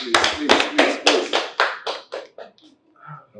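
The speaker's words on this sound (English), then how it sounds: "Please, round of applause, please." A small group claps in a quick burst of about a dozen sharp claps that thin out and fade within three seconds, close and loud, with a few voices at the end.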